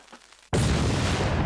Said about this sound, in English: So he's survived the explosion because he's dropped below.